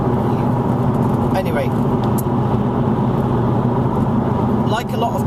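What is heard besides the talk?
car driving, heard from inside the vehicle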